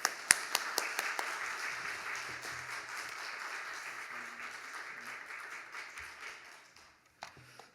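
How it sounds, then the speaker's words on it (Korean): A congregation claps during a Wednesday evening church service, a few sharp separate claps opening into soft, fairly distant steady applause that fades out, followed by one or two stray claps. "나올 때 박수해요"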